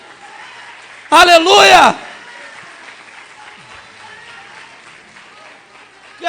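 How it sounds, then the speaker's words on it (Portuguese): A church congregation breaks into a short burst of applause and cheering during a sermon, loud and close for under a second, framed by a preacher's voice. "Você pode aplaudir o Senhor?"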